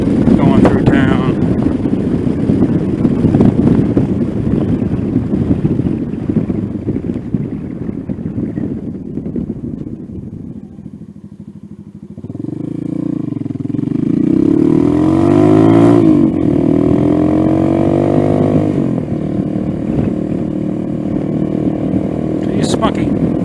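Venom Ghost 250 motorcycle riding through town, its engine droning close and loud with wind buffeting, then dipping before revving back up through the gears over rising and falling pitch.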